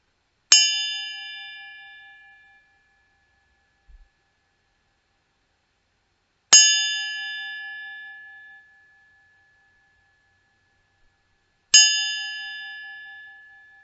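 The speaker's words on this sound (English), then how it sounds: "listening to the sound of the bell, see how long you can follow the sound as it fades into silence" A meditation bell struck three times at slow, even intervals, each bright ring sustaining and fading gradually into near silence before the next strike.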